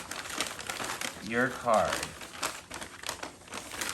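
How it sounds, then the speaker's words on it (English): Playing cards shuffled inside a bag during a close-up magic trick give a steady papery crinkling and rustling, close and fairly loud, with a person talking over it. "Now I'm gonna mix them up, shuffle them in the bag"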